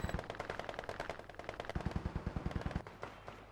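Machine-gun fire from the video game Company of Heroes 2 rattles in rapid bursts, with a dense, fast string of sharp cracks in the middle and sparser shots around it.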